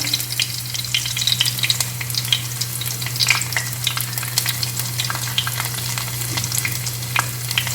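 Whole, uncrushed garlic cloves drop into a fish curry frying in a pan, giving a loud, continuous crackling sizzle with dense spits and pops under a low steady hum, and no voices.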